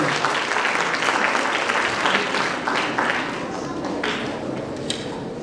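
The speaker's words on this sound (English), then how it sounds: "Give a big round of applause to" A conference audience gives a professor a round of applause after his presentation, the clapping dense, full and steady for the whole stretch before easing slightly near the end.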